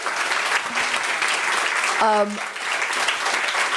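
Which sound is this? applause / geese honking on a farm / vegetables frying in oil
applause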